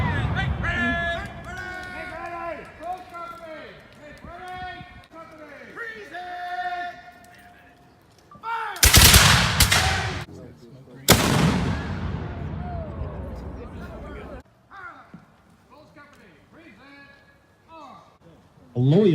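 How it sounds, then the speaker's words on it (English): Musket and artillery fire at a battle reenactment: two loud, sharp broadband blasts roughly two seconds apart rise out of ongoing talk, the second trailing off in a long rumbling decay before voices continue. "As the Loyalists drew near, the patriots opened up with a devastating fire."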